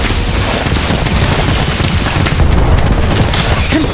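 Whizbang spell blast in the mobile game Harry Potter: Magic Awakened, a loud, dense burst of booming, crackling explosions with sparkly magical hiss layered over it, continuous and without talk.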